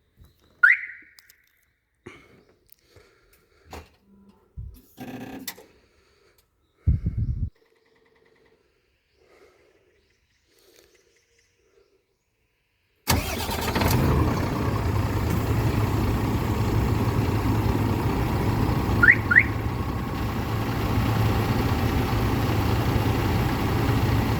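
Volvo FL truck started remotely through its alarm system, with a few faint clicks and chirps, then the heavy diesel engine catching and idling steadily and loudly, with brief high chirps over the rumble.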